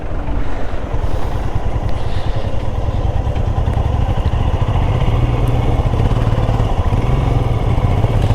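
A motorcycle rides a damaged mountain road on the way from Manali to Chandigarh, its engine droning loud and steady throughout with rough, rumbling wind and road noise.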